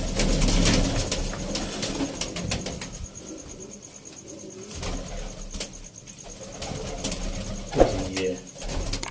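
Pigeons coo and rustle their wings close by while being vaccinated, with soft repeated coos and flapping under someone talking.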